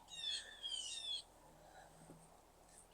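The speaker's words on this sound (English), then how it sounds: "Birds are going crazy." Birds in a snowy winter garden give two bright, quick bursts of chirping near the start, followed by fainter scattered calls over a quiet outdoor background.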